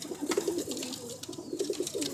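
Bronze pigeons in a loft coo in soft, low repeated phrases, a couple of rounded bursts with a pause between them, fairly close, with faint rustling and clicks behind.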